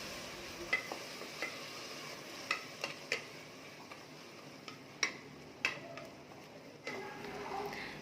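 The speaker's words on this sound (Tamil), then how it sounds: "இதையும் சேர்த்துட்டு நல்லா நம்ம வதக்கிக்கலாம்" Masala paste sautéed in a pan for pressure-cooker mutton biryani, with quiet, faint frying and scattered sharp taps and scrapes of a spoon against the pan.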